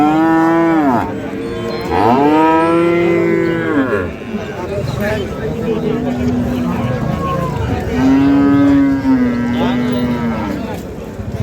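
At a cattle market where dairy cows are sold with their calves, a calf lets out several loud, drawn-out moos close by. Voices and market noise carry underneath.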